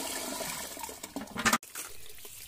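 Liquid kitchen waste, thin like water, poured into a biogas plant inlet: a short gushing splash building to a loud burst that cuts off abruptly, with softer dribbles after.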